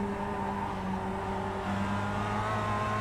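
A simulated Mazda MX-5 Cup race car at Lime Rock Park in iRacing hums with a sustained, steady engine note holding a constant pitch under racing load, alone and without speech.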